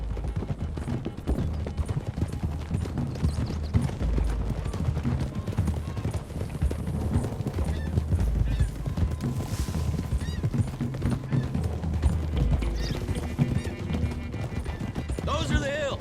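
Horse hooves clip-clop steadily throughout in Red Dead Redemption 2, several riders on a road, with continuous rhythmic hoofbeats under people talking and game music.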